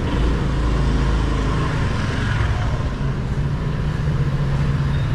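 Traffic at a busy intersection in a narrow lane in Hanoi makes a continuous loud, dense roar of engines. The low rumble holds steady throughout with no distinct pauses, and no one speaks.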